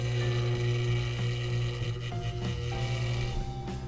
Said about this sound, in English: you put it on the vibrator, you put pressure on it.